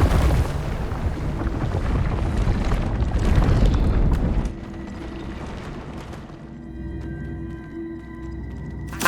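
Revelio spell pulse in Hogwarts Legacy: a loud, booming, rumbling wave rolls out for several seconds, then drops away abruptly to a low, humming ambience with faint ringing tones. No speech.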